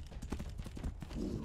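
Hooves of a ridden horse clop in a quick, even rhythm in Tainted Grail: The Fall of Avalon, close and moderately loud, with a faint voice in the background.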